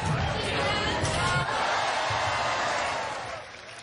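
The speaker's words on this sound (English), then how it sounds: "The crowd goes wild during this wheelchair basketball game at the Jewish Community Center." Crowd noise fills the gym at a wheelchair basketball game at a Jewish Community Center during the Maccabi Games, a loud continuous roar of cheering and chatter with a ball bouncing now and then, easing slightly near the end.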